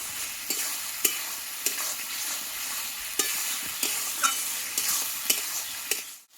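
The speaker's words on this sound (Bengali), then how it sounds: "যতক্ষণ মশলা থেকে তেলটা না ছাড়ছে ততক্ষণ কিন্তু মশলাটা আমি ভালো করে কষিয়ে নেব।" Homemade spice paste for a Bengali chicken dish fries in oil under a constant sizzle, while a spoon scrapes and stirs in regular strokes about every half second, close and with no voices.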